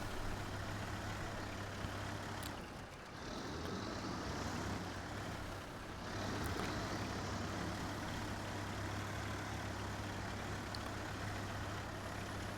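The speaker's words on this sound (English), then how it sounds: "if the truck does that stuttering thing like that's doing, it means that the motor's a little underpowered" A Kenworth truck engine in the Snowrunner video game, underpowered and stuttering, gives a steady low rumbling drone with brief dips and surges, loud and continuous with no voices.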